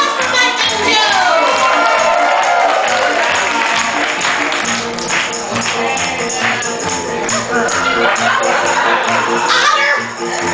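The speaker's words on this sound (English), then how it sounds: "Applause for Mike and Joe!" Audience applause and cheering for performers Mike and Joe at a lively club show, a loud dense burst of clapping with shouts and whoops that continues steadily throughout.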